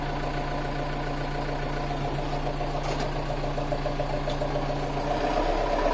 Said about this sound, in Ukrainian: Трактор поїхав. Даємо ручний газ